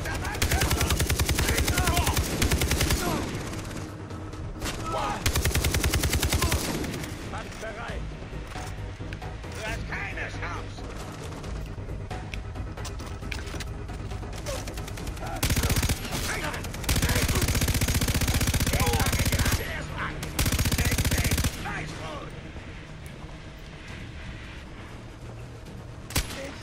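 Gunfire in the Far Cry 3 video game: loud bursts of automatic fire and single shots in several blocks with brief gaps, under a player's speech.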